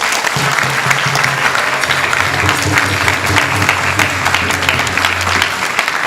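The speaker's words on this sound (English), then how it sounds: "Give yourselves a huge round of applause." Crowd at a youth camp closing session breaks into loud, sustained applause, dense clapping from many people with a low hum running underneath.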